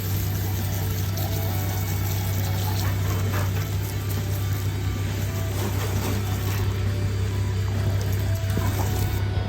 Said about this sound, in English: We'll wash all that sand and salt off, and we'll look after the old girl